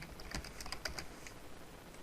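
Someone types a short scene name on a computer keyboard. A quick burst of soft, close key taps is heard over quiet room noise, with no one speaking.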